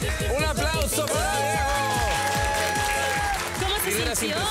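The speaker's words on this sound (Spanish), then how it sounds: "¡Un aplauso para" An audience applauds at a slime challenge show, a dense steady clapping wash under loud music and a voice talking over it.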